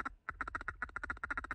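A hen duck quacks over a marsh during opening-day waterfowl hunting in Michigan, a fast rhythmic run of about a dozen loud, nasal quacks in quick succession.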